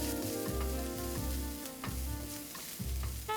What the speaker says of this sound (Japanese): 玉ねぎと青唐辛子を入れ、玉ねぎが色づくまで炒めます。